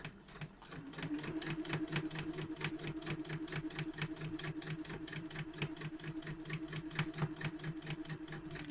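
A sewing machine stitches a seam on a drawstring bag, running with a fast, even mechanical chatter of needle strokes, fairly quiet and steady throughout with no talking.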